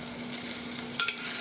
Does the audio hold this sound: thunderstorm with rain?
no